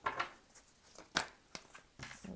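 Tarot cards are shuffled, giving a string of faint, quick papery snaps and riffling flicks in uneven bursts, close by and quiet, with no voice over them.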